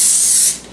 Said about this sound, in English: So I'm gonna go ahead and spray mine a little bit.